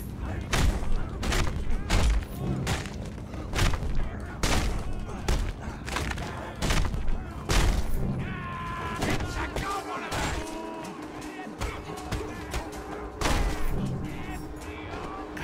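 Rapid gunfire in the Mad Max video game: dense bursts of sharp shots and heavy thuds crackle in quick succession, pause briefly amid engine-like drones and game sounds, then resume, with a player talking intermittently over the action.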